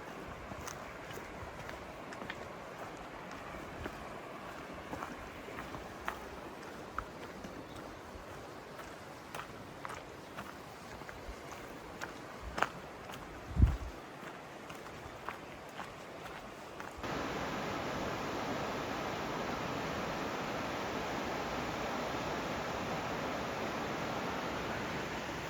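River flowing beside an Appalachian hiking trail, a steady broadband rush with occasional footsteps and knocks, swelling into a louder, closer roar of water near the end.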